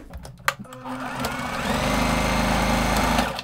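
A sewing machine reinforces a freshly sewn seam on a child's dress: after a few clicks and a sharp tap, the motor spins up into a steady, fast, close-up whirring stitch run that holds for about two seconds before easing off.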